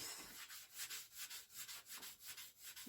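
A sponge rubs gently back and forth across the smooth glass door of a wood-burning stove in a steady, rhythmic scrubbing, close and fairly quiet, with no voices.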